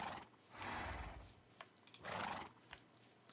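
A horse neighing in the video game Minecraft, two breathy whinnies rising and fading, faint and a little distant, with some light clatter between them.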